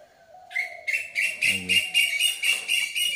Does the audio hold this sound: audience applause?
no